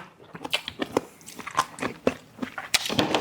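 Someone bites and chews large, crunchy cannonball jellyfish, making a series of close, irregular crisp crunches and wet chewing sounds.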